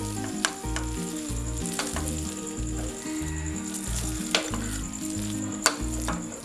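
A spoon stirs a semolina and sugar mixture with a couple of drops of vanilla essence in a pan, scraping faintly at irregular moments under steady background music.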